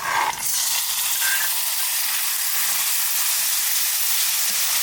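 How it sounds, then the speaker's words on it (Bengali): Ground spice paste frying in hot mustard oil in a pan after onions have been browned, a loud, continuous sizzle that opens with a sharp burst and then holds steady, with no talking. "এবার বাটা মশলাটা দিয়ে দেবো।"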